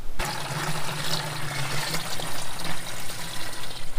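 Water runs into a container in a kitchen before a trip to the garden, making a steady, close splashing and trickling rush that lasts the whole time, with no talking.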